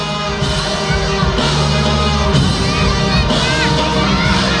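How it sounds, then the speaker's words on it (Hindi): Crowd at a preschool annual function in Krishna Nagari cheering and shouting for a first-prize winner, loud and continuous with children's yells and whoops mixed in, under a steady hum of background noise. "एक बार जोरदार तालियां हो जाए उनके लिए भी।"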